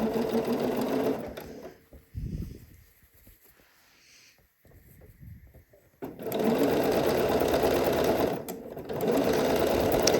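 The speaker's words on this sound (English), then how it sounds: "I'm sewing really close to that previous stitch line, but on the facing side" A sewing machine runs in steady bursts while understitching a bias facing on a Cashmerette Loring dress, with a quiet pause in the middle and brief low voice sounds between runs.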